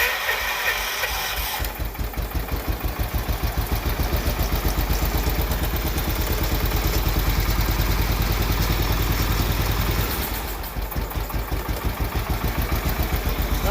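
An old Case XC210 lawn mower engine, revived after sitting unused for over fifteen years, runs with a loud, rough, rapid chugging that rises and surges unevenly as the throttle is opened, then settles back to a lumpy idle.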